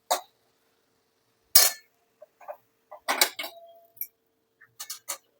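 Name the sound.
scooping cooked vegetable out of the pan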